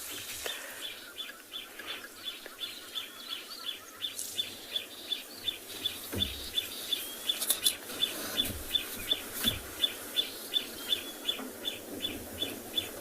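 A morning bird party at sunrise on a Kalahari safari, with a flycatcher, chinspot batis and long-billed crombec calling; steady repeated chirping notes over a busy, layered chorus of distant and nearer birds, with no talking.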